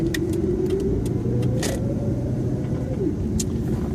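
A car pulls forward from a school drop-off loading zone and turns right, its steady low engine rumble and road noise continuing at close range throughout, with a few faint clicks above it.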